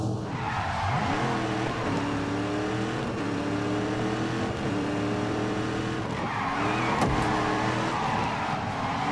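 A video-game race car laps a racetrack, its engine droning loudly and continuously with rising and falling pitch and tire squeal, with no voices.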